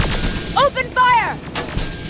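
Gunfire in the video game Terminator Resistance: a few sharp shots mixed with tonal, warbling game effects over a steady background, with a short voice line in the middle and another burst near the end.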